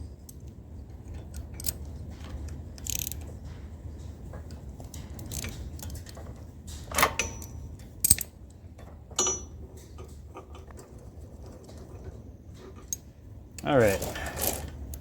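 A wrench loosening carburetor stud nuts on a zero turn mower gives scattered metallic ticks and clicks, a few sharper clanks, and a louder rattling burst near the end, all fairly close in a quiet workshop.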